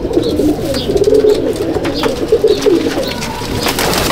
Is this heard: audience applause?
no